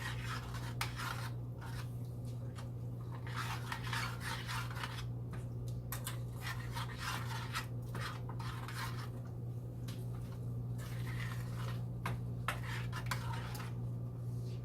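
A spoon mixes oats and brown sugar in a bowl, making repeated scraping and rubbing strokes in an uneven rhythm over a constant low hum, with no one speaking.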